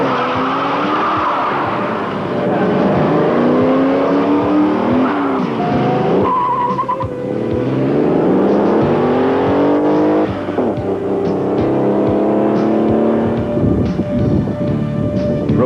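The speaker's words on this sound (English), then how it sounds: "Rivera does a spectacular run, closing a 30-second gap and passing Joyce." A 1989 Corvette and a stock 1986 Porsche 911 Cabriolet race flat out on an open public road, engines loud and close with rising and falling pitch sweeps as gears change, tires squealing through bends throughout.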